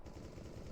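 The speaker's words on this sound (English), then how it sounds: "gets found with the auto sniper" Auto sniper rifle gunfire in a competitive first-person shooter match, a brief dense burst of rapid shots, close and sustained through the fragment.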